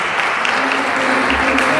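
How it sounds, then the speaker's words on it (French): A church congregation applauds in a dense, loud, continuous wash of clapping that fills the space, steady throughout with faint voices mixed in beneath. "Applaudissons pour l'Éternel, s'il vous plaît."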